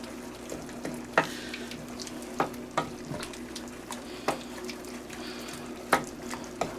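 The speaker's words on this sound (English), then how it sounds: "Stir this up to the rest of the mixture we got in here" A spoon stirs a seven-pepper chili mixture in a pot, scraping and knocking against the sides in irregular strokes over a soft steady sizzle, close by with no talking.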